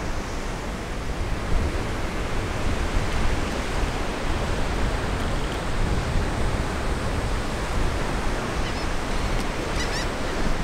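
Surf rolls onto the shore at Fort De Soto beach in Florida, a steady, broad wash of breaking waves with no pauses, fairly close and loud, with no voices.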